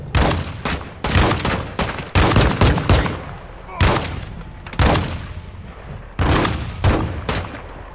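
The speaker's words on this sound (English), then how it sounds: "Who the fuck is shooting at me?" Loud, rapid bursts of gunfire from Call of Duty: Modern Warfare II, with repeated volleys and sharp shots spread across the clip, close and dominant throughout.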